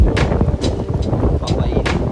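Strong wind buffets the microphone at a cliffside beach campsite on Cabangaoan Beach, Burgos, Pangasinan, a continuous loud rumble with repeated gusty surges.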